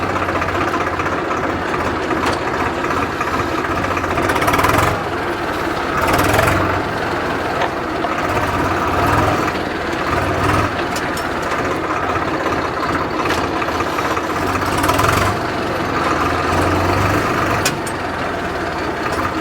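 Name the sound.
tractor engine running while driven in first gear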